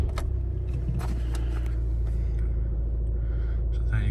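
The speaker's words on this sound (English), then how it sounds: "I'll just start the car so you can see there's no warnings" A 2012 Seat Leon FR+ 2.0 TDI 170 DSG diesel cranks and catches, then settles into a steady, fairly loud idle rumble heard close up, with faint clicks on top.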